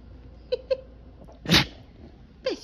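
A Keeshond dog gives a sharp, close sneeze midway, set among small snorting sounds and faint squeaky vocal noises in an otherwise quiet room.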